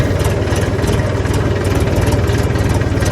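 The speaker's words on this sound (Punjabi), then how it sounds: "ਹੁਣ ਆਪਾਂ ਟਰੈਕਟਰ ਕਰ ਸਟਾਰਟ" A tractor engine idles loudly and close by, with a steady low chugging pulse that holds even throughout.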